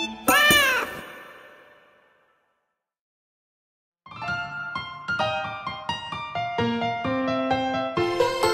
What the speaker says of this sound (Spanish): ¡Qué graciosos son estos tres gatitos!